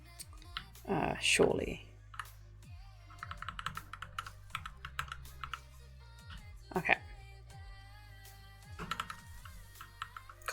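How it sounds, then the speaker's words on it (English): A noisy computer keyboard clatters in quick, uneven bursts of taps close to the mic, with a person talking briefly over the start and some background game audio underneath. "my keyboard is so noisy as well"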